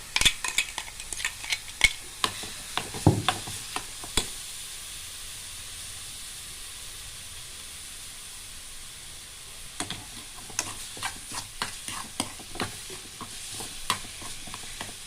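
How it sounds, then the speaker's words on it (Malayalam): Ground chutney for dosa and uzhunnu vada is added to a hot pan and stirred, bringing a steady sizzle and hiss with clinks of a spoon against the pan that come in bursts at the start and again near the end. "ഇനി അതിലേക്ക് നമ്മളെ അരച്ച് വെച്ചിരിക്കുന്ന ചമ്മന്തി ചേർത്ത് കൊടുക്കാം"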